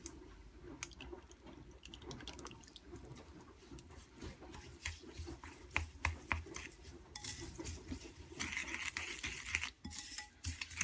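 A shabu dipping sauce of Japanese vinegar and sesame oil being stirred in a bowl, with quiet, close clinks and scrapes of a spoon coming in irregular bursts.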